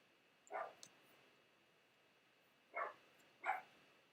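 Three separate barks from a dog ring out at uneven intervals, each a brief, punchy woof, somewhat distant in a quiet room with no voices.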